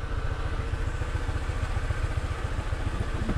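A motorcycle engine idles nearby with a steady, low, even putter that continues throughout at moderate volume.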